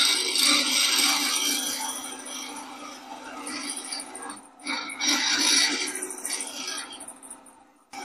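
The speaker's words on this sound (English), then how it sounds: "Back to the spindle gouge." A spindle gouge cuts a wooden mallet blank spinning on a woodturning lathe, giving a hissing, scraping shave that rises and fades in uneven passes with brief pauses.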